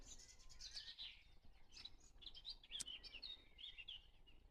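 Small birds chirp and tweet at 4:30 in the morning on a farm, quick high calls scattered across the clip, soft and somewhat distant against faint background noise.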